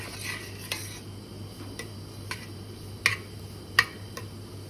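A spoon scrapes and taps against a pan as halva is stirred while it toasts, giving scattered light clicks and clinks over a faint steady hum, with no talking.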